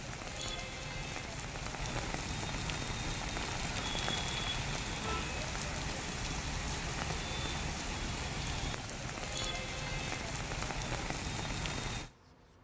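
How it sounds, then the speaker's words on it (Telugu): Heavy rain pours steadily in Hyderabad, a loud, dense and unbroken rush of drops on surfaces that cuts off abruptly at the end; no voices. "గంటన్నరగా కురుస్తున్న వర్షం ఇంకా కంటిన్యూ అవుతుంది."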